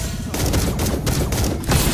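Rapid bursts of gunfire from Granger's bullets in the mobile game Mobile Legends, loud, dense shots firing in quick clusters across the whole moment with no talking.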